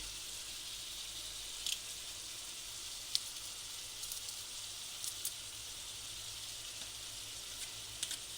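Garlic clove sizzling in a frying pan for stir-fried chicken and vegetable noodles, a steady quiet hiss with a few faint pops and crackles throughout, no talking.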